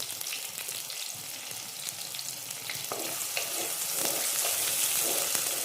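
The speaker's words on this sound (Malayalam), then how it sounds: "അതിലേക്കൊരു 10 ചെറിയുള്ളി ചതച്ചത് ഇടുന്നു." Crushed small shallots frying in a few spoons of oil in a pan, a steady close sizzle with scattered crackles and pops that grows slightly louder over the clip, no voices.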